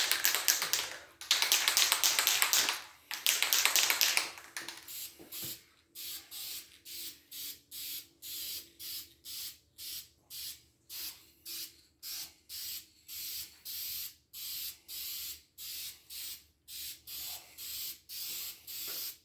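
Spray paint hissing onto a 1968 GTO timing cover in repeated bursts, first two long sprays, then a run of short, evenly spaced puffs, loud and close with no talking.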